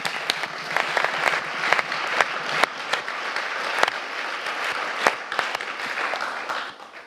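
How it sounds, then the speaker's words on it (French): An audience at a student and business evening applauds the students, dense sustained clapping from many hands that stays steady and fades slightly at the end. "On doit applaudir ce soir Manon"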